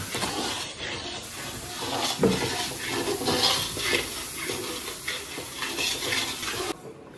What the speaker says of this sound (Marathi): अशा पद्धतीनं हे छान मिश्रण भाजून घेऊया आणि यामध्ये गरम पाणी टाकूया